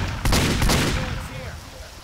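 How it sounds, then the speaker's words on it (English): Bursts of M16 rifle fire in Left 4 Dead, using a custom weapons mod: loud, close shots crowding the first second, then fading into quieter game noise with voices mixed in. "I've got that new weapons pack that Alistair made, and the M16 sounds sweet"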